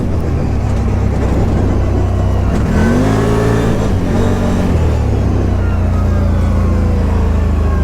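A 2021 CFMOTO ZFORCE Z 950 side-by-side's engine pulls hard and loud, revving up through a rising sweep and easing back before climbing again, close and steady throughout.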